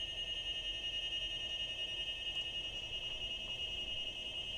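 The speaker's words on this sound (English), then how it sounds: "it sounded beep, beep, beep, beep" A school bus rear button alarm sounds during a pre-trip inspection: a steady, high-pitched electronic tone that holds unbroken and fairly loud, with no talking over it.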